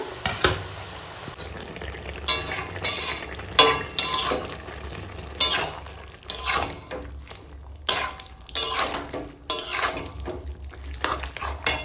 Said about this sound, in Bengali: একটু ঘেঁটে দিচ্ছি সবজি সিদ্ধ হয়ে গেছে